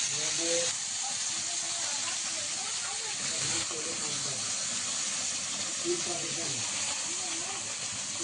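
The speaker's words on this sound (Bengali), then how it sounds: "বেগুনটা কড়াইতে দিয়ে দিয়েছি এবার নিভো জালে আস্তে আস্তে ভাজবো এটাকে" Eggplant slices frying slowly in oil in a wok over low heat give a steady, soft hiss and gentle crackle that runs evenly throughout, close by, with no talk.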